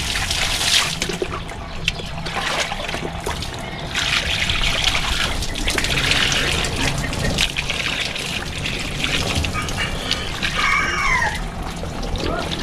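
Water trickles and splashes steadily from an outlet into a catfish pond, a continuous close wash of running water throughout.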